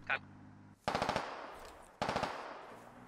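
Machine gun fire in the tactical shooter game Squad, two short bursts of rapid shots a second apart, fairly close and loud with a decaying echo after each burst.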